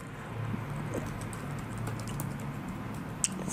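Soft, steady typing on a computer keyboard while entering Python code, a faint continuous patter of keystrokes over low room hum.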